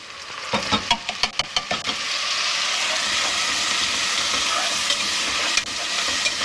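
Tomatoes dropped into a pan with garlic: a few sharp clattering stirs, then a loud, steady frying sizzle that holds to the end.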